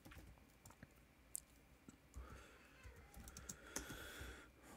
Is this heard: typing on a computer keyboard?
yes